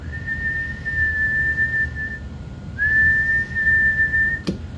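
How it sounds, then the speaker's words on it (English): A person whistles two long, steady, high notes, separated by a short pause, with a brief knock near the end and faint room noise underneath. "Whistle into it, it'll go nuts."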